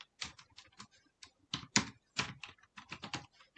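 Fingers type on a computer keyboard in quick, uneven bursts of crisp clacking keystrokes, close and clear, with no talking.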